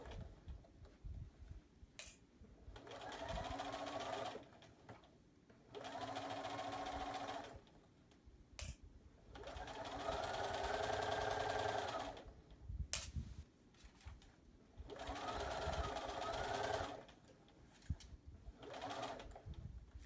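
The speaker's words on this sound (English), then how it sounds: "I like to stop my machine with the needle in the down position when I'm doing this." A sewing machine stitching a charm-square tote bag runs in four separate bursts of fast, steady mechanical whirring and needle clatter, each lasting a few seconds, with short quiet pauses between them.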